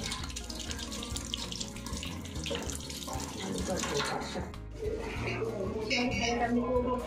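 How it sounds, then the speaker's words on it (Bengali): Tap water runs steadily over freshly cut fish being rinsed at a home sink, a continuous splashing wash with faint background voices. "আরেকবার একটু জল দিয়ে ভালো করে ধুয়ে নিই"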